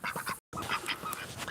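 Ducks quacking in a barnyard as they are fed treats, a busy run of calls with a brief silent gap, close and fairly loud.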